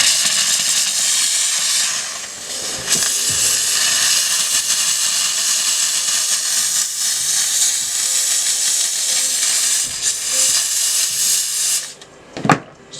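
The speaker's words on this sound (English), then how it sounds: "take your steamer and just start steaming" A garment steamer hisses loudly and continuously, close up, as it steams the sole of an upturned Nike AF-1 sneaker, with a few faint knocks before it cuts off at the end.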